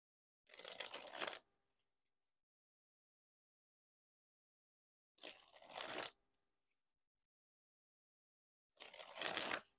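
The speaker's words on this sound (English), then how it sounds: "we gotta dribble the cards first" Bicycle Unicorn playing cards dribbled from hand to hand in three separate bursts of quick papery fluttering, close and crisp, with silent pauses between them.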